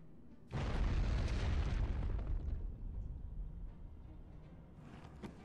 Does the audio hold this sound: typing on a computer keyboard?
no